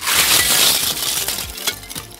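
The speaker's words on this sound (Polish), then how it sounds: "Wygląda jakbym tu szkło rzucał, ale to musicie mi uwierzyć, jest o tafle lodu." Chunks of ice or objects tossed onto a frozen sheet of ice during winter fishing, giving bright, glassy clinks and crunching shatters, loud and close with a sharp burst near the end and no talk.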